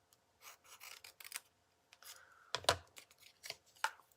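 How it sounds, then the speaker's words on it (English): Scissors snipping and rasping through cardstock and paper during card making, a series of short close crisp cuts with brief pauses, one sharper louder cut near the middle. "And then I angled this with my scissors this way."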